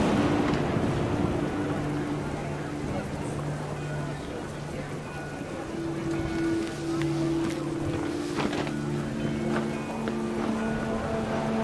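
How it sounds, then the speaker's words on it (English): Heavy rain pouring in the video game What Remains of Edith Finch, a dense continuous wash with a low rumble beneath, while a narrator speaks over it. "The rain came down in buckets then"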